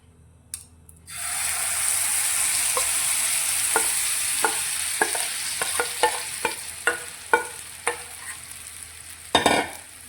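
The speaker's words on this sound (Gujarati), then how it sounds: "રાઈ થોડીક ચટકવા લાગે એટલે આપણે જે ખીરું તૈયાર કર્યું છે તે અંદર લઈ લઈશું।" Hot oil with crackling mustard seeds erupts into a loud steady sizzle as batter goes into the pan, followed by a series of regular tapping and scraping strokes and a brief burst of clatter at the end.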